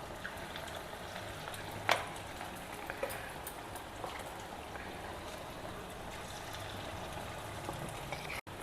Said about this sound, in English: start frying these paniyarams or bondas